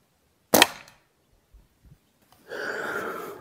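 A Rossi Outlander carbine fires a single slug: one sharp, loud report, then a few faint clicks and rustles, followed by a steady outdoor hiss.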